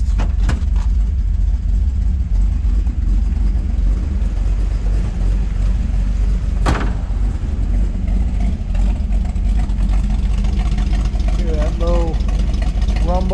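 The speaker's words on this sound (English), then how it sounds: "Try to let you hear the exhaust." A 1968 Pontiac Firebird 400 convertible idling in neutral, its exhaust giving a steady, deep low rumble close to the listener for the whole stretch, with one sharp click partway through and a brief whine near the end.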